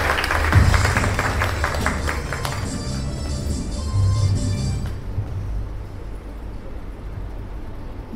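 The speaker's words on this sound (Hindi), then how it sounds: "एक बार आप लोग अपने लिए ताली बजाएंगे।" A seminar audience bursts into applause, a dense wash of many clapping hands lasting about five seconds before it drops away, leaving quieter room noise.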